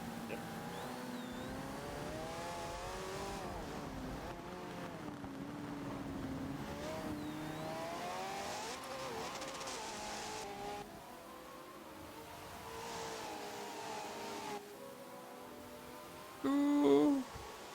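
Hypercars race on a wet Silverstone circuit in a sim racing game, engines droning and shifting pitch steadily through the whole stretch, with a brief louder burst near the end.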